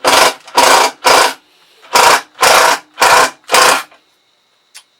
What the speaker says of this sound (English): And that's the drill doing its job.